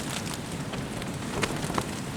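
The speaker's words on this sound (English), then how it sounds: "The rain's just starting to come now," Rain begins to fall outside a copper mine at dusk, a steady, diffuse patter and hiss with a few sharper drops, moderately near and even throughout.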